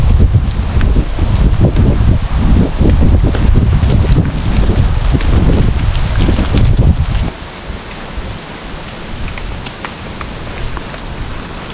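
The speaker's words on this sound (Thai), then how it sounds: "ตอนนี้นะฮะเจอฝนเต็มเลยนะ" Heavy rain pours down with gusting wind in a forest during a storm. A loud, broad roar runs for about seven seconds, then eases to a softer steady patter.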